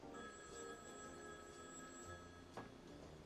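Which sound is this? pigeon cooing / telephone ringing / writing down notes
telephone ringing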